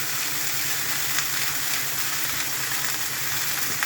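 Leafy greens fry in a pan with steady, dense sizzling and occasional scraping from stirring, close and continuous, without talk.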